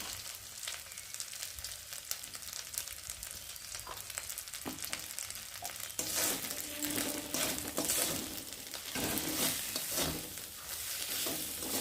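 Spice masala fries in oil with turmeric and chilli powder, a continuous sizzle with stirring scrapes and clinks that grows louder and crackles more halfway through.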